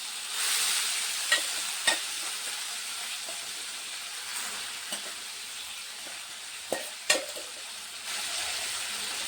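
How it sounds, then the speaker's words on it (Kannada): Ash gourd pieces fry with cumin in a pan, giving a steady sizzling hiss with scattered sharp pops and clinks of stirring, close and fairly loud with no voices. "ಈಗ ಈ ಹೋಳುಗಳನ್ನ ಇದಕ್ಕೆ ಹಾಕೋಣ. ಒಂದು 2 ನಿಮಿಷ ಹುರಿಬೇಕಾಗುತ್ತೆ."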